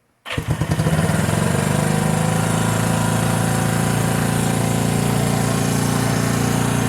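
A 1974 Honda CB360 motorcycle engine fires up and settles into a steady, loud, close idle with an even low throbbing pulse, no voices over it.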